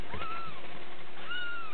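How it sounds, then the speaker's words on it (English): Kittens from a small litter of three, a couple of days old, give faint, thin mewing calls, one near the start and another near the end, over a quiet background with a steady low hum. "here are the three kittens from the other litter."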